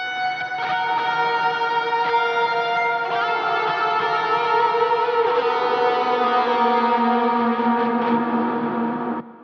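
Electric guitar lead tone drenched in heavy reverb, long sustained distorted notes that swell and bleed into one another for several seconds, played alone with a thick, washed-out tail before cutting off.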